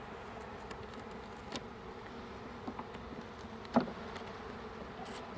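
Agitated honeybees buzz steadily at an open hive during a check before winter, a continuous faint hum with a few brief louder passes close to the microphone.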